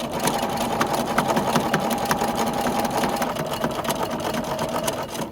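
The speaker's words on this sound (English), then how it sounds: "I'm going to take a stitch and then I'm going to reverse because I really want to anchor this here. And then I'm going to sew all the way to the corner." A sewing machine stitches binding onto a quilt, running as a steady, rapid, even whir of needle strokes that holds close and constant throughout.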